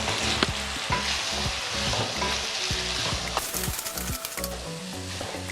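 Chicken sizzles and fries in a hot pan, with steady crackling and repeated scraping stir strokes close by, no talking.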